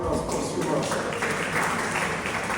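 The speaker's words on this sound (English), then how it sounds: "Would you give him a round of applause" An audience at an annual general meeting of a council on ageing breaks into dense, steady applause, loud and close, filling the room for a couple of seconds.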